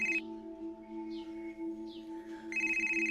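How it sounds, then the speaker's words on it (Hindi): A mobile phone ringtone plays a short bright electronic melody at the start and again near the end, over a steady low musical hum, moderately faint. "ये तुम्हारा फोन बज रहा है, फोन लो।"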